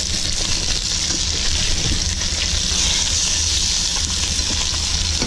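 Yellowtail fish fillets frying in a hot pan, a steady, close crackling sizzle that runs continuously with faint bubbling and no talking.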